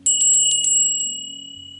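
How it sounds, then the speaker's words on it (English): A small metal hand bell, rung to call on spirit guides, rattles in a quick cluster of about six strikes, then gives a single ring and fades into a long, clear, shimmering decay, close and alone. "So I'm going to ring the bell to call on these people."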